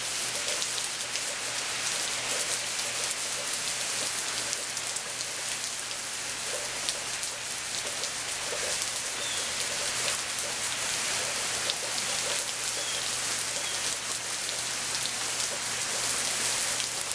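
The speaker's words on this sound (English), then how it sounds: "Here's a sight we haven't seen for months. Rain." Steady rain falls outdoors in Arkansas at the start of Hurricane Isaac, a dense, even hiss of drops on surfaces that holds constant throughout with no talking.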